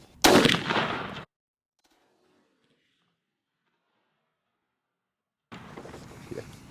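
Stevens 301 turkey shotgun firing Federal TSS 9.5 shot through a Carlson's 568 Longbeard XR choke, a single loud close blast that decays quickly into silence, followed later by a second burst of sound.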